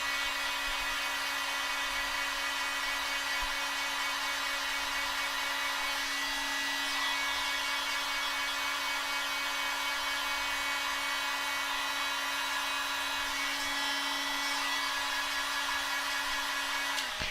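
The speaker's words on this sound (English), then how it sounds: "now I need to dry that with the hot air gun" A hot air gun drying dye on a turned wooden piece blows as a steady, loud whine with a constant hum beneath it, running continuously close by and cutting off abruptly at the end.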